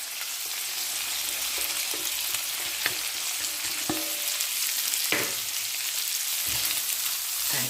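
Prawns frying in a pan as spring onions go in, a dense, loud hiss of oil throughout with a few clear taps and scrapes of a utensil, no speech.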